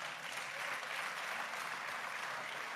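Faint, distant applause from an audience at an event introducing President Bola Tinubu, with a steady patter of clapping and no voices over it.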